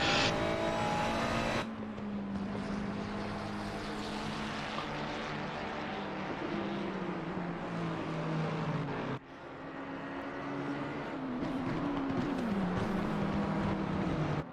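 Ferrari GT3 race cars on the Zolder circuit in Assetto Corsa Competizione roar loudly and steadily, engine pitch rising and falling with gear changes through the turns, with no talk.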